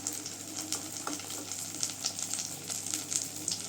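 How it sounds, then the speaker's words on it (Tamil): Eggplant pieces fry in hot oil for a Tamil-style eggplant 65, giving a steady close sizzle with scattered crackling pops and no voices. "இப்போ ரெண்டு பக்கமும் நல்லா கத்திரிக்காய் ஃப்ரை ஆயிடுச்சுங்க"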